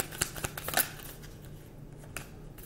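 Tarot cards being shuffled by hand: a quick run of crisp riffling snaps in the first second, then a faint, quiet stillness with only soft traces of card handling.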